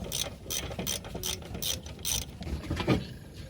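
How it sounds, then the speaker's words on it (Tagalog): A hand ratchet clicks in quick, steady bursts, removing the wheel cylinder bolt on a stuck drum brake, close and clear with no talking. "Tanggalin na yung bolt ng wheel cylinder."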